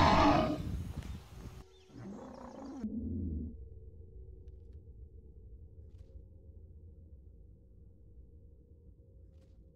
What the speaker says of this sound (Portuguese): Nossa, gosto muito desse rugido. Acho bem realista ele.